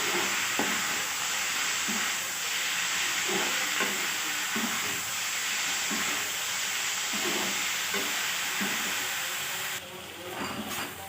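Food fries in a pan with a little turmeric and salt, giving a continuous loud sizzling hiss with faint stirring scrapes, all close up and steady until it eases near the end.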